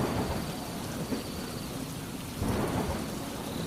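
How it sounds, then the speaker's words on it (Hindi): Steady heavy rain pours down while low thunder rumbles through, swelling into a stronger roll near the end. No voices. "बारिश थमने का नाम नहीं ले रही थी।"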